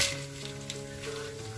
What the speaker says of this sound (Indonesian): Aku sambil goreng bakwan.